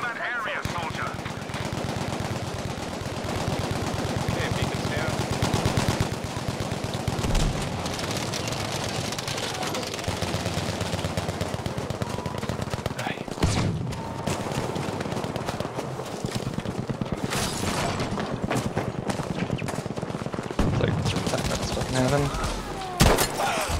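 Battlefield V gameplay on the Narvik map in Breakthrough mode brings near-constant machine-gun bursts and rifle fire with distant explosions, dense and continuous, while a voice talks over the combat at times.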